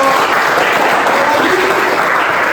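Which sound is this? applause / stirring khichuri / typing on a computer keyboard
applause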